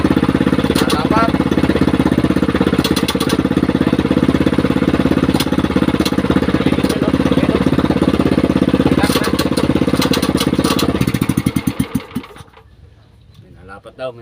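Motorcycle engine running steadily after a repair, a loud continuous rattling idle with rapid mechanical knocking that sputters and dies near the end, with faint voices in the background.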